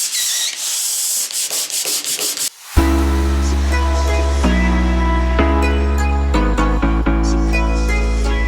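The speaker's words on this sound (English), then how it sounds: "120 sandpaper, sanding pad, sanding pole, on the extension. Time to give these babies a bit of a rub down." Walls are sanded by hand with 120-grit paper on a pad fixed to an extension pole, giving rhythmic rubbing strokes at first. Loud, sustained tonal music then takes over and masks most of the scraping.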